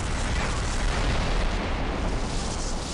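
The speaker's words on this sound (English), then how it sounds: "You've got to shoot down this ship. The catch is it's firing at you as well." Dense, continuous explosive roar from a ship being shot at in the video game Star Trek Elite Force 2, loud and sustained with no distinct gaps or voices.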